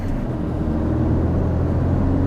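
A Ford Focus ST engine drones loud and steady from inside the cabin while the car shifts up through the gears, a dense low rumble that holds without a break and carries no speech.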